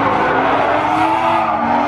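Toyota 86 drift car at a state-versus-state D1 Open Class drift competition, skidding with a loud, continuous roaring tire squeal and engine noise that holds steady for the whole stretch.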